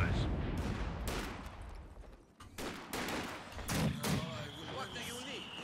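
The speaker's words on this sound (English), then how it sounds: "this should be the revised US mortar with a longer range now and more damage" A US mortar in Company of Heroes 2 fires and its shells land, sharp booming thumps and impacts scattered across a busy battlefield, mixed with other gunfire while a voice talks over it.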